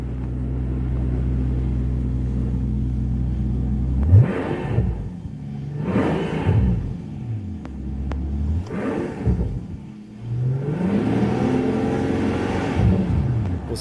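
Mercedes-Benz S65 AMG V12 biturbo, stationary with a rev limiter near 3,000 rpm: a steady deep idle rumble, then four loud, close rev blips with rising and falling exhaust roar, ending on a long sustained rev.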